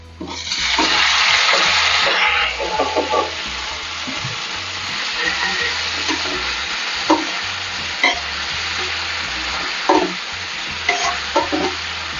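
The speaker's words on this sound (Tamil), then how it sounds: "இப்போ வந்து நம்ம வேக வச்சுருக்கிற நம்ம சிக்கன் போட்டுக்கலாம்" Boiled chicken tipped into a pan of frying ginger and garlic for a curry-leaf chicken dish, a loud sizzling rush at first, then settling into steady frying with repeated scraping stirs and no talking.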